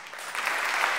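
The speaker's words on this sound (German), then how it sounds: "Applaus." Audience applause at an award ceremony for science communication in Heidelberg, a dense wash of many hands clapping that swells in over the first half-second and holds steady, fairly close and full.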